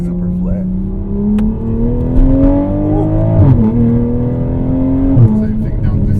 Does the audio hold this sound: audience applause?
no